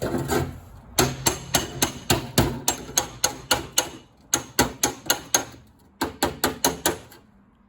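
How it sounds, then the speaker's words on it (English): Hammer striking a dented car body panel against a dolly during dent repair, delivering steady bursts of sharp metallic blows in quick rhythmic runs with brief pauses between sets, close and loud. "we're going to use the dolly and we're going to try and straighten it up a bit"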